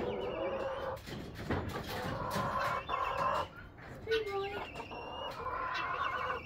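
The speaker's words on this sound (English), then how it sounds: "Are you gonna crow for me? On camera?" Chickens and a rooster cluck and call in a yard, moderately close, with a person talking intermittently over the birds.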